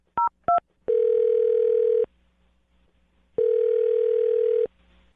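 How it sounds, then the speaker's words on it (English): Two short touch-tone beeps from a telephone being dialed are followed by two long, loud steady tones, separated by a pause, with no talk. "I'm going to dial her phone number right now"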